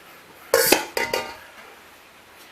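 Beans and chili go into a large metal cooking pot, giving two sharp clanking bursts of utensil against pot close up, then fading into quiet.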